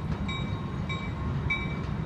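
Some way off near a river and bridge, a CSX freight train pulled by two engines rolls by, a continuous heavy rumble marked by evenly spaced clickety-clack beats, with no voices.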